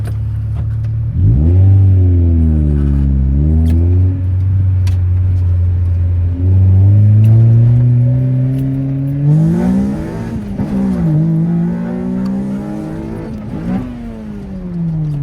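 A Honda Prelude with an H22A engine pulls hard from a stop, heard from inside the car: a loud, close rising rev through the gears with sharp drops at each shift and a deep rumbling exhaust.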